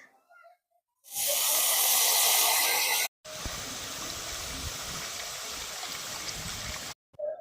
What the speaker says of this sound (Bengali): এই রসটা আমি ছেঁকে দেবো